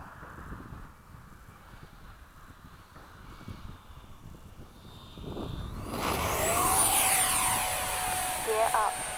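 An FMS 70mm F/A-18 RC jet performs a touch and go on a cloudy day, its ducted-fan whine steady at a distance, then swelling louder and rising in pitch as it passes close.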